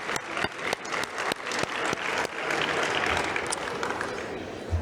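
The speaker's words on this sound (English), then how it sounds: "Let's give a round of applause." An audience at a health-technology conference award ceremony applauds, a few early claps swelling into steady, dense clapping from a sizable crowd that carries on without talk.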